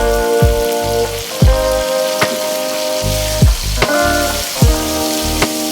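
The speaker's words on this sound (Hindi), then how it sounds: "और इसको अच्छे से 5 मिनट तक हम फ्राई करते हैं।" Ground green chilies fry in hot oil in a pan, a loud close sizzle and crackle with repeated sharp stirring clinks and scrapes of the spoon every second or so, no voices.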